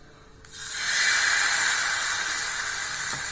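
Dosa batter poured onto a hot griddle sets off a loud, steady sizzle that rises quickly and holds with a close, bright hiss, with no talking.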